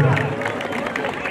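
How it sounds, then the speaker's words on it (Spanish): A rodeo crowd at a ranch in Paso Morelos, Guerrero, claps and cheers in a steady wash of applause with voices mixed in for about a second. "Y que vengan los aplausos,"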